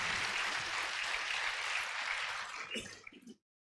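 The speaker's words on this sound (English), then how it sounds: "I'd like you all to clap for this noble gesture." Audience applause at a seminar, a dense sustained burst of many hands clapping that thins into a few scattered claps near the end before stopping abruptly.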